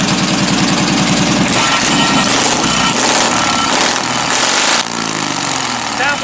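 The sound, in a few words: race car engine running after starting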